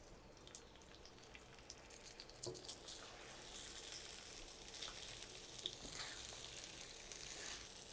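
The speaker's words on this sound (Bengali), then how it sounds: "আদাটাকে কষিয়ে নিয়েছি আর এখানে আমি চাল দিয়ে দিচ্ছি" Rice sizzling and frying in a pan with ginger for a white pulao, a steady crackling hiss with small pops throughout, fairly close and with no talk.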